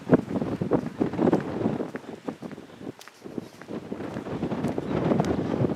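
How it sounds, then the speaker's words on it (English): Gusty coastal wind at Land's End, Cornwall, buffets the microphone in uneven rumbling bursts, rising and falling throughout with a brief lull in the middle. "It's always windy down here."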